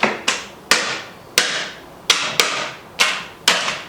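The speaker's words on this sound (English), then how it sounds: "There are a few big pieces, but you can just crack them with your spatula." Large pieces of hardened homemade hard candy cracked with a spatula, eight sharp loud cracks at irregular intervals of about half a second, each with a brief ringing decay, close and without speech.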